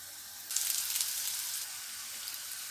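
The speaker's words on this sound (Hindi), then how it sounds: "अब इसे तवे के ऊपर डालते हैं। अब इसके ऊपर भी ऑयल डालेंगे।" A cheese potato paratha fries in oil on a griddle, giving a soft, steady sizzle with a brief louder crackle near the start, close by and without talk.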